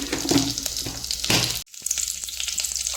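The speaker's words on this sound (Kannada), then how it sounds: "ತುಪ್ಪ ಕಾದಿದೆ ಜೀರಿಗೆ ಒಣಮೆಣಸಿನ್ಕಾಯಿ ಕರಿಬೇವು ಒಂದು ನಾಲ್ಕೈದು ಎಸ್ಲು ಹಾಕ್ತಾ ಇದ್ದೀನಿ" Cumin, dried chilli and curry leaves sizzling in hot ghee, a close crackling fry broken by a brief drop, then a quieter steady sizzle.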